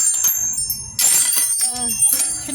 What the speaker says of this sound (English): So I got little butterfly bells over here that are hopefully bringing peace.